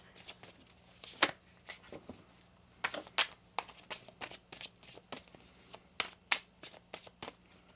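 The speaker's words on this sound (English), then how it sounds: "One more shuffle here." Tarot cards being shuffled up close, a series of crisp riffling bursts and soft slaps at irregular intervals, with no talking.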